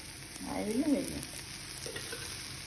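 Raw mango dosa batter on a pan with oil gives a soft, steady sizzle close by, with a brief faint voice-like murmur and light scraping early on.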